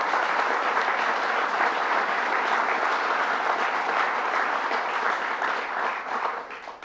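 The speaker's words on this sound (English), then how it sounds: "So let's give them a round of applause" An audience applauds local officials at a Governor Cuomo event on drinking water treatment. The clapping is full and continuous and stays loud and even across the whole stretch before tapering slightly at the end.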